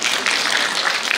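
Audience applause at an academic summit, a dense, steady wash of clapping hands that fills the whole brief moment, loud and close, with no talk over it.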